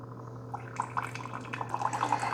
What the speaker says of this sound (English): It kind of made some sounds, and I've got water coming out.